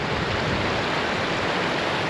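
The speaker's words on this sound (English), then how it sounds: "Another river crossing." A river rushing at a river crossing during a hike in Sweden, a constant close, loud broadband water roar with no breaks.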